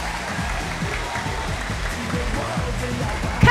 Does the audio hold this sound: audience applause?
yes